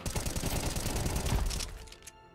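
Rapid automatic gunfire in CS:GO: a quick, evenly spaced string of shots rattles close and loud for about two seconds before it breaks off into a few scattered echoes.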